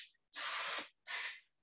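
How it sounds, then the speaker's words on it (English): Cooking spray misted over the tops of quesadillas before baking: two short aerosol hisses, each just under half a second, separated by a brief pause, close and clear with no talking. "you actually want to lightly spray the tops of them with some of that cooking spray"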